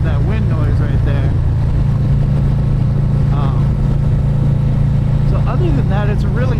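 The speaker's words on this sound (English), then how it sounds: "Pick up that wind noise right there." Wind noise rushes past while a motorcycle with a Drag Specialties Predator III seat rides along, a steady low rumble beneath gusty buffeting, with a voice talking over it.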